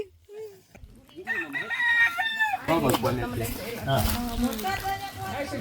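A rooster crows nearby at a weekend outdoor spot, a loud drawn-out call with wavering pitch, while people talk over and after it.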